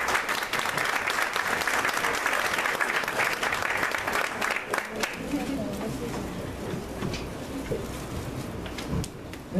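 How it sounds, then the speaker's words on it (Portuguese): Audience applause at an urban mobility seminar, strong clapping for about five seconds that thins out as talking voices take over. "Gostaria, por favor, de uma salva de palmas para Eunice Horário."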